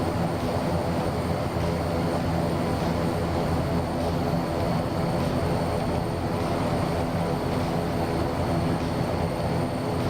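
Steady, loud propeller-engine drone of a Fokker F27 turboprop airliner in Microsoft Flight Simulator 2024, a continuous broadband roar with a faint high whine running unchanged throughout, no voices.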